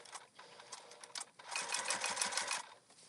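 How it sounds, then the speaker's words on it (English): A sewing machine runs in short bursts, then one longer steady stretch, as it top stitches and back stitches thick cotton woven fabric up close. "so we are going to top stitch that"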